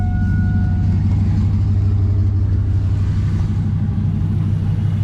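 A 1999–2006 Chevy Silverado with a five-speed and a cold air intake idles in neutral, a steady, loud low rumble holding even for several seconds with no revving and no voices.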